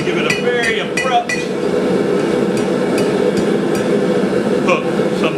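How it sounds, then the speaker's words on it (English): Blacksmith hammering hot iron on the horn of an anvil, a quick run of bright ringing clanks early on, then scattered lighter strikes over a steady workshop roar. "I'm going to bring it over here to the horn and give it a very abrupt"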